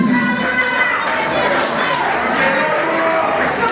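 An audience cheers and applauds loudly and continuously for an artist at a show, with shouts mixed into the steady roar of clapping.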